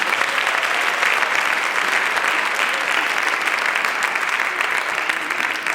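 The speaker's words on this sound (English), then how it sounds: "A round of applause, please" An audience applauds as a swinging jazz band is introduced, a steady, even wash of many hands clapping for several seconds without any voices.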